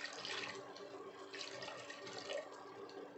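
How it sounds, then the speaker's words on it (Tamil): Water is poured in a small amount into a mixer grinder jar while tomato gravy is being made, a soft continuous splashing trickle close by with no talk. "நம்ம மிக்சி ஜாரில் கொஞ்சமாக தண்ணி விட்டு அந்த தண்ணியோடு சேர்த்துக்கலாம்."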